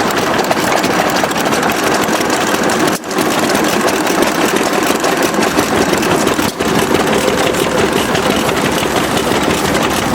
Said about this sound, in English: here's an English engine for our British buddies